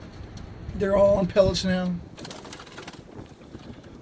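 Pigeons in a backyard loft give soft cooing calls in the middle, beneath someone speaking nearby, followed by light rustling and scratching.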